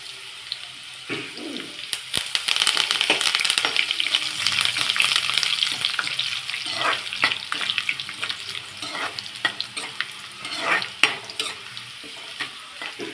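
Cumin, mustard seeds and curry leaves crackle and fry in hot oil with onions for a stuffed brinjal curry, producing a continuous close sizzle with sputtering bursts and stirring scrapes, no talking.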